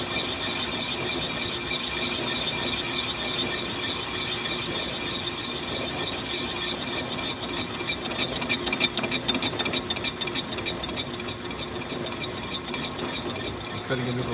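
A cutting tool grinds steadily into the internal webs of a Norton Commando gearbox case, a continuous rasping, chattering mechanical whir that roughens and grows more rhythmic partway through.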